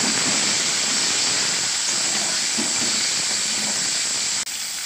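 Potatoes and chopped tomato fry in a pan with a steady, hissing sizzle that holds at an even level and drops briefly near the end.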